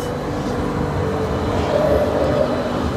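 A Vistadome tourist coach train pulling out of Sevoke station on the forest route to Alipurduar, a loud steady low rumble of rolling wheels and carriage noise, close and continuous with no voices.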